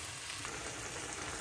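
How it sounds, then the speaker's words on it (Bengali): Food fries in a pan with hot curry powder, giving a continuous, even crackling sizzle close by and with no talk. "আমি একদম ভেজে ভেজে নিব।"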